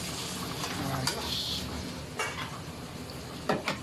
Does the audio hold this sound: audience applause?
no